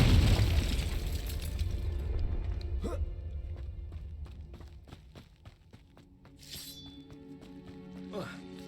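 A Confringo explosion spell from Hogwarts Legacy lands as a heavy rumbling boom that fades over a few seconds, followed by scattered thuds and debris clatter, with a voice shouting the spell.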